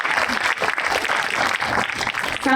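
An audience claps through a 5th grade culmination ceremony in a short, busy burst of applause with uneven swells, fairly close and loud, with no voices over it.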